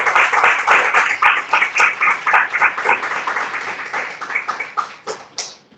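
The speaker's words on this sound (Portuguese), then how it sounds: "Dê uma forte salva de palmas." A church congregation claps loudly together at a Sunday service, a close, strong burst of hand claps that fades into scattered final claps near the end.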